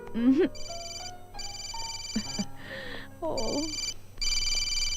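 A telephone rings in a 2010 Hindi comedy-drama film, sounding as repeated bright electronic ring bursts separated by short gaps, with voices and other film sounds mixed in between.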